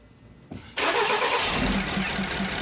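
A BMW X3 with a crank-but-no-start fault turns over and catches after a brief hesitation, settling into a steady, loud idle close by.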